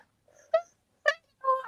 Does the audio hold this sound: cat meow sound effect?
yes